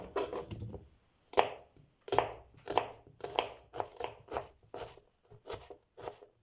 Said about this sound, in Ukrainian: І спочатку я нарізаю цибулю